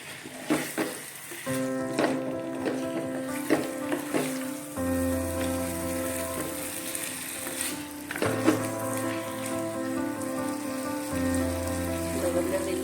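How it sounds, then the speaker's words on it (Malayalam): Chicken masala sautés in a hot pan over high heat for Hyderabadi chicken masala, a steady close sizzle and crackle with occasional stirring scrapes throughout. "നല്ല ചൂട് കൊടുത്ത് ഇത് വഴറ്റിയെടുക്കാം"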